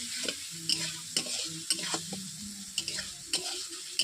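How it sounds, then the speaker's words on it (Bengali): Spice paste for a Bengali cauliflower kofta curry fries and sizzles steadily in a pan over low heat while a spoon stirs it, scraping in regular strokes about twice a second, close and moderately loud with no talking. "দেখতেই পাচ্ছেন আমার মশলা কষানো হয়েই গেছে"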